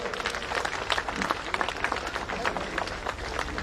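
A crowd at a political gathering in Delhi applauds steadily under a busy layer of voices and shouting. The clapping is dense and continuous for a few seconds, moderately loud, with no clear start or finish.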